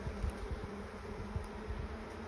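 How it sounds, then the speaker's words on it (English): Honeybees buzz softly around an open hive during an inspection of the east hives, a faint, steady low hum with occasional brief louder passes of single bees and no talking. "Those calm bees as well."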